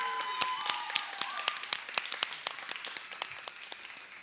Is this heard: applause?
yes